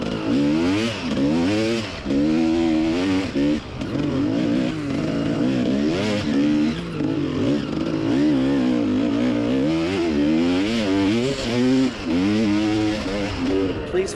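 Two-stroke enduro motorcycle ridden hard in a three-hour race, its engine loud and close, rising and falling constantly with gear changes and throttle blips throughout.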